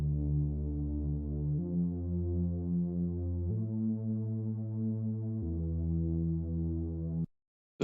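A synth pad built for a song's build-up holds sustained, low, hum-like chords that shift pitch in steps every couple of seconds, steady and smooth, then cuts off abruptly into silence near the end.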